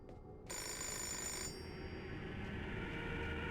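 Telephone ringing in the video game Fahrenheit, a faint, steady electronic ring that carries on with no talk.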